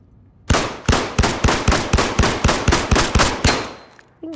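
Rapid gunfire from a weapon on a shooting range in the video game Zero Caliber, about a dozen loud evenly spaced shots in a quick burst, followed by a brief mechanical click at the end.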